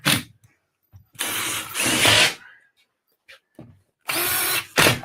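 A power drill with a dimpler bit driving drywall screws: several short whirring bursts separated by pauses, loud and close, with a few faint knocks between them and no talk.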